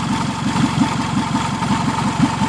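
A 2003 Toyota Camry idles just after an engine swap, with a loud, steady rhythmic exhaust pulse and droning low rumble running throughout.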